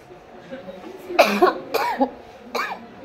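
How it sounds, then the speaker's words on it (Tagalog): Several short, harsh coughs in a row, close by in a classroom, with a faint voice around them. "Bawasan nyo naman yung ubo ko."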